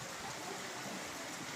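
Steady monsoon downpour hisses evenly and softly for a moment, with no other sounds.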